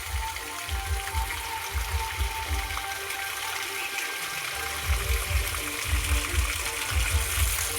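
Water pours steadily from a pipe onto onion plants in a field, a continuous rushing gush with low pulsing throb, while a person speaks over it.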